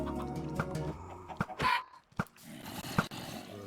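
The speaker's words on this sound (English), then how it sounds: "Essentially, it spawns chickens here." Chickens clucking in a Minecraft chicken farm, a cluster of short blocky game clucks and squawks popping out irregularly at close range, with a busy mix of overlapping bird calls and no speech.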